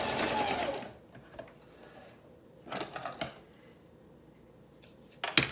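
A sewing machine fitted with a heavy-duty needle stitches through a quilted makeup bag padded with batting, giving a short close burst of rapid mechanical whirring followed by quiet pauses and a few brief clicks.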